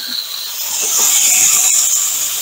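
Tomatoes hit hot oil in a frying pan while cooking a Peruvian beef stir fry, giving a steady, close, broadband sizzling hiss that swells slightly and holds.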